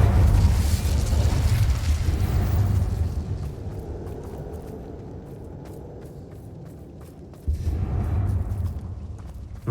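The Incendio fire spell in the video game Hogwarts Legacy sets off a deep, rumbling explosion inside a closed mine tomb; a heavy boom decays into a long roar, followed by a second burst.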